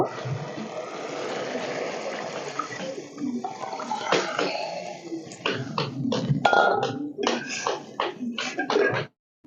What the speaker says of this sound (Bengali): এবার আমি এর মধ্যে ডালটা দিয়ে দেব